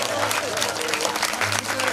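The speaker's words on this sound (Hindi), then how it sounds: "अरे तारी तो बजाए दो भाई" A crowd at a Bhagwat katha religious gathering claps hands in dense, sustained applause, with a voice talking loudly over the clapping throughout.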